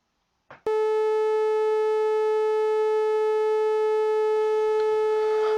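A steady synthesized semi-sine wave tone with a buzzy, harmonic-rich timbre starts abruptly after a brief click and holds at constant loudness for several seconds.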